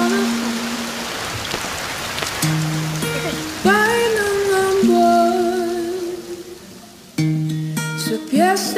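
Rain hisses steadily beneath a melody of clear, sustained musical tones that change pitch every second or so.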